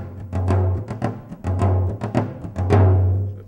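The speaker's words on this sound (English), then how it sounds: "The surdo pattern, the garbage can bass drum, seems to figure a lot into it, and it sounds something like this." A samba surdo bass drum pattern played on a drum kit's bass drum, with deep booming hits pulsing in a steady repeating rhythm and lighter kit strikes layered over it.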